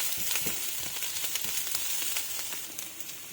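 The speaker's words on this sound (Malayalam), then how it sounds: "പച്ചമുളകും നന്നായിട്ട് ഒന്ന് വഴറ്റുക." Sliced onion and green chillies sautéing in hot oil in a pan, giving a continuous close sizzle with light crackling and faint stirring scrapes throughout.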